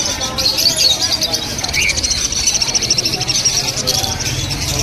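A crowd of small caged birds, young and adult, chirps and twitters continuously at a bird market in Serampore, over a busy background with people talking nearby in a lively, enclosed space.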